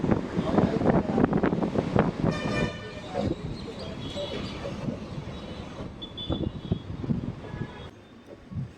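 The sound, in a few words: intercity train passing alongside, Secunderabad–Sirpur Kagaznagar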